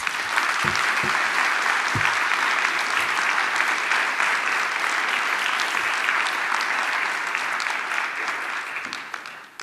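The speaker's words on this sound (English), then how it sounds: "please give him a round of applause" Audience at a 2019 arts and literature award ceremony applauds an award recipient coming to the podium; dense, steady clapping fills the hall throughout, with a few low thumps early on, thinning slightly at the very end.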